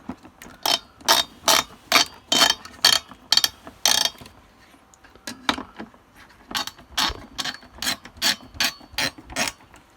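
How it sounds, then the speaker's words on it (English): Screwdriver tightening screws into a PC case, heard as close, rapid ratcheting clicks in repeated short bursts with brief pauses between them. "And now we can tighten this down using just a screwdriver"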